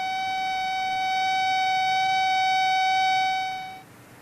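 A fire alarm in an old 16mm safety film sounds one steady, buzzy electronic tone, held loud for nearly four seconds before cutting off abruptly.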